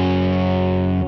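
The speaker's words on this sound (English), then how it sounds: "Like it goes into instant distortion." Universal Audio amp plugin pushed into instant distortion with the level turned up: a loud, dense, buzzing sustained chord that holds steadily for about a second, then cuts off.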